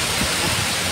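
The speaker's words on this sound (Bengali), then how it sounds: "শুনতে পাচ্ছেন আর দেখতেই পাচ্ছেন দূরে বৃষ্টিটা পড়ছে।" Rain pours during a night-time nor'wester storm, a dense, steady hiss of falling water filling the moment without pause.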